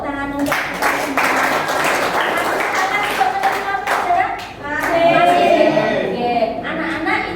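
Children clapping together in a classroom, a steady round of hand claps lasting several seconds, with voices talking and calling out over and through it.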